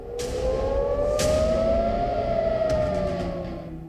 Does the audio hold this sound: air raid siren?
yes